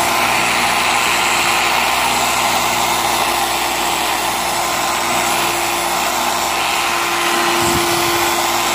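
Polisher fitted with a 3-inch wool pad compounding a car headlight during mobile auto detailing, a loud steady high whirring motor drone holding for the whole stretch with a brief dip in pitch near the end, no talking.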